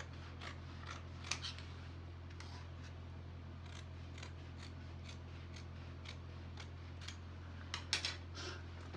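Scissors cut out fabric for a peplum, giving a series of quiet, crisp snips spaced irregularly over a low steady background hum, close by and faint.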